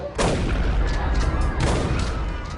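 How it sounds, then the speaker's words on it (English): Gunfire as gang members open fire at a party, heavy booming shots in two loud bursts with reverberating tails, close and harsh. "They jump out and open fire."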